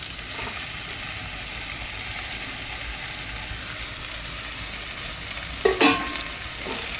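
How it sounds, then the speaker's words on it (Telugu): Raw prawns frying in a pan of ginger garlic paste with coriander and mint for prawn biryani, a continuous hiss of sizzling oil with a brief clatter of utensil stirring near the end. "ఇప్పుడు నేను పచ్చిరొయ్యలు వేస్తున్నానని చూడండి."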